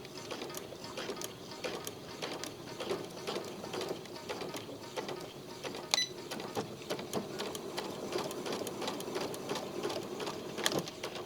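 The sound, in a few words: sewing machine stitching a trouser waistband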